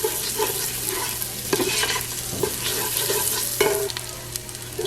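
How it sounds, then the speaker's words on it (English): Garlic sizzles and fries in a pan on a stovetop, a steady crackling hiss broken by a few sharp scraping clicks as it is stirred. "the garlic is kind of changing color and it's sizzling in there"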